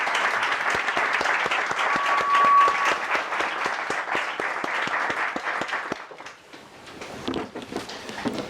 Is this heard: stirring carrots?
no